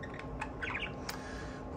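Pet birds squawking indoors, a few short, harsh calls and chirps rising briefly over a steady room hum, close but fairly quiet.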